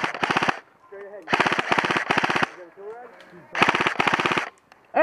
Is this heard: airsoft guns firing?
yes